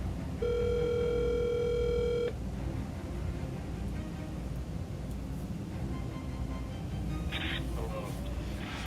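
A phone rings with an incoming call in a quiet room, a steady electronic tone for about two seconds followed by faint background noise and a brief beep.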